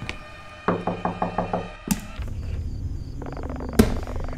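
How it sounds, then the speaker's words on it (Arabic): A burst of about six rapid knocks on a door inside the horror video game Fears to Fathom, fairly close and distinct against a low ambient hum, followed by a couple of louder thuds. "في حد يدق"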